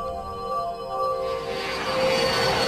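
Steady engine roar from a Soviet fighter interceptor jet on a 1968 test flight over Riga, Latvia, a continuous loud drone with tonal whine that swells slightly in the second half, with no voices.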